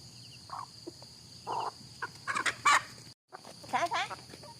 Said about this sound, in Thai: ไก่ก็จะประมาณนี้เลยทุกคนเลยบ่น้อยบ่หลาย